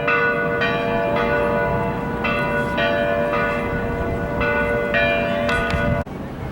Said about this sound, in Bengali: ওটা মনে হচ্ছে যে চার্চটার ছবি তুললাম একটু আগে, সেটা বেল টাওয়ার থেকে আসছে আসতে।